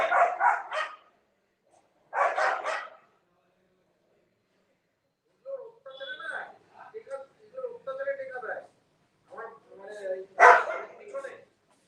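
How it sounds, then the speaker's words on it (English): Several dogs bark in a neighborhood, two short bursts of barking followed by a longer stretch of irregular yaps and barks at moderate distance. "The dogs are being crazy in the neighborhood."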